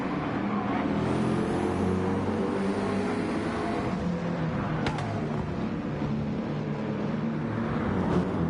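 BMW race car lapping the Nürburgring during the 24 Hour race, its engine droning loudly and steadily with shifting pitch as it runs close, and a sharp transient partway through.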